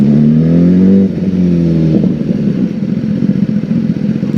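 A motorcycle revs up with a rising whine, then drops and rumbles along as it rides, close and loud with no voices.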